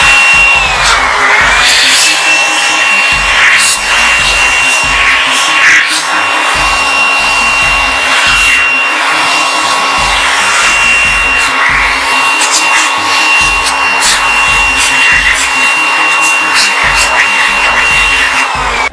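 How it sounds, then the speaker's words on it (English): Air blower cleaning the air filter of a Honda CBR 250R motorcycle, a steady loud hissing rush that runs unbroken the whole time, with faint whistling tones riding on top and no talk. "So after done with removing the air filter box, we would take a blower and use it for cleaning it."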